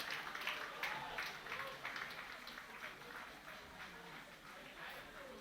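Guests at a 70th birthday celebration give a warm round of applause for Mr. and Mrs. Nsiah, a continuous, fairly faint patter of many hands clapping from across the room.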